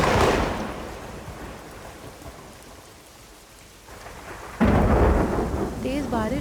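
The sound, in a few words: heavy rain and thunder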